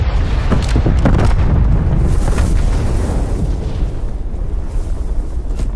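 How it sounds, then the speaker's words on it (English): A nuke detonates in a shooter video game, a loud, sustained roaring blast that rumbles continuously and fades slightly toward the end, with no speech. "You got nuked on you dumbass."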